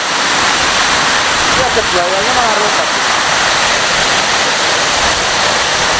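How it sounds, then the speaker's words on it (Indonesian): Water roars steadily and loudly at Seloresi waterfall, a broad continuous rush that never lets up, with a person speaking briefly over it. "air terjun Seloresi"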